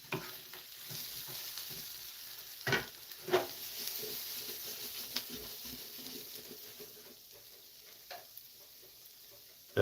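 Onions and potatoes fry in a pan, a soft steady sizzle broken by occasional scraping stirs and light clinks, fairly quiet and close.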